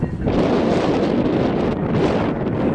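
Heavy wind noise buffets the microphone in a rail yard, a loud, dense, continuous rumbling roar over the whole short stretch with no other clear sound.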